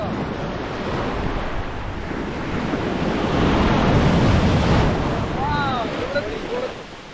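Sea waves breaking on the beach at Varkala, a continuous roaring surf with heavy wind rumble on the microphone, swelling louder midway; a faint bird chirp near the end.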